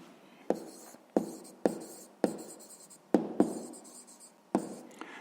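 A pen writes out a sixth-grade maths solution in a series of quick strokes and taps, about eight distinct, close scratches in a loose rhythm, with no talking.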